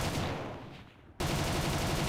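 Aircraft cannon fire in War Thunder, rapid close bursts that fade, pause for a moment and then resume abruptly at full loudness.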